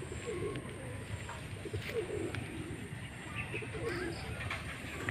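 Racing pigeons coo repeatedly in soft, low, rolling calls close by, over a steady background rumble with occasional chirps.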